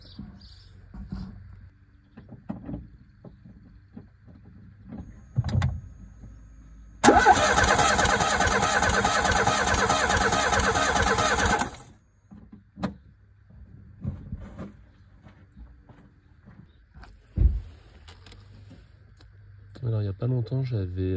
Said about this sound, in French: et mettre le coup de démarreur.